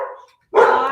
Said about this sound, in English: Hopefully Jeter will quit barking.